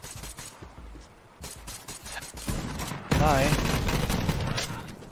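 Cocky Flakker shotgun from Borderlands 3 firing in a few sharp, close blasts, then a loud sustained burst of explosive flak noise near the end, with a brief spoken word early on.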